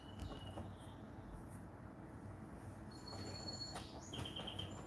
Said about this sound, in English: I love the bird sounds.